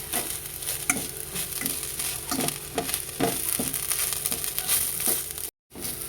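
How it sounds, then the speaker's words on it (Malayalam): Grated coconut roasts in a pan for coconut candy, a close dry sizzle with steady rhythmic scraping stirs throughout and a brief silent gap near the end. "ഈ തേങ്ങ നന്നായി വറുത്തെടുക്കണം"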